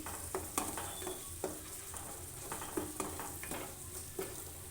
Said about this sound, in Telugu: నెక్స్ట్ కొంచెం అల్లం వెల్లుల్లి పేస్టు కొంచెం పసుపు వేసుకొని కలుపుకోవాలి